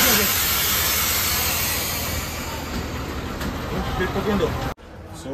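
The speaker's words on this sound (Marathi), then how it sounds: "सो फायनली ना गाडी आली आहे बरोबर" An MSRTC state bus pulls into platform 11 at the bus stand with a loud, steady rumble and airy hiss that cuts off abruptly near the end, while voices are heard.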